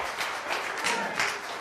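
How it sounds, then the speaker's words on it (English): Audience applause from a church crowd, a brief burst of scattered clapping swelling in small waves, moderately loud and close. "That's worth applauding."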